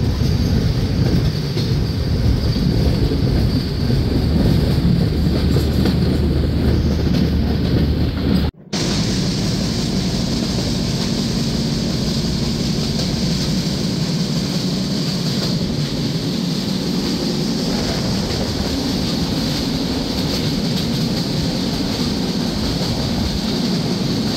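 The Shagardari Express, running from Rajshahi to Khulna, pulls out of a station around a curve with a loud, steady rumble that lasts throughout, broken only by a brief dropout partway through.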